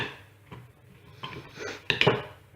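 A spoon stirs gluten-free, dairy-free porridge with fruit in a pot, making a few close, irregular scrapes and clinks against the metal, with quiet pauses between strokes.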